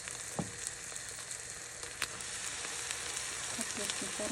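Liver cutlets fry in a pan normally used for fish, giving a soft, steady sizzle with a few sharp crackles and utensil clicks.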